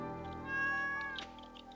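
A cat in the Stardew Valley game gives a single drawn-out meow that rises and falls, clear and close, with no talk over it.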